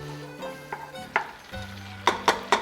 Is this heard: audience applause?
no